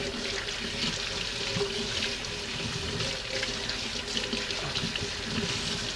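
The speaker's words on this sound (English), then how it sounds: "Then wash them under cold running water." Cold tap water running over roasted bell peppers as they are rinsed, a steady splashing stream into a sink, close and uninterrupted.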